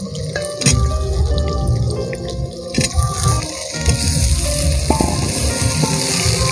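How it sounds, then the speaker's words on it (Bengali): Radish pieces frying with tangra fish in a pan, a steady dense sizzle with bubbling crackle throughout, close and loud, with occasional faint clicks and no talk. "এবার পিস পিস করে কেটে রাখা মূলোটাও মা ওর মধ্যে দিয়ে দিচ্ছে।"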